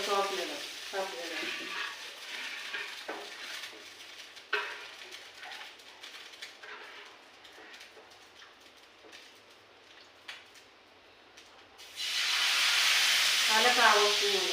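Hot oil sizzling in a pan as it is rubbed with half an onion, a close steady crackle and hiss with stirring scrapes, swelling to a louder, denser sizzle near the end.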